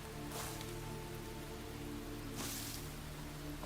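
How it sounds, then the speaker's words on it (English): Rain falling in the video game Enshrouded, in a forest village setting: a steady, even hiss of drops on surfaces, with a soft tonal hum underneath and two brief swells in the downpour. No one speaks. "I kind of like the rain too."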